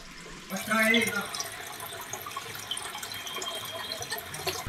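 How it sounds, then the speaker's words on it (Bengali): Water flows steadily inside the Gupta Ganga hilltop temple in Keonjhar, a continuous rushing wash heard nearby, with voices briefly speaking over it near the start. "পাহাড়ের মাথায় একটা মন্দির, গুপ্ত গঙ্গা টেম্পল। ভেতরে জল বইছে।"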